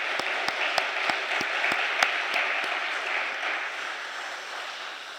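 A church congregation claps steadily with a few sharp, louder claps standing out early on, then the applause thins and fades toward the end.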